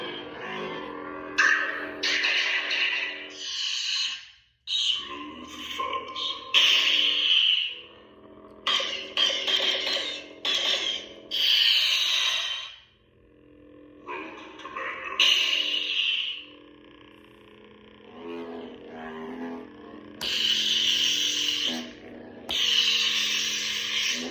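Electronic lightsaber sound-font hums and swooshes from a Saberforge Bane lightsaber play in a series of separate bursts, some with crackling or flickering tones, broken by short silences.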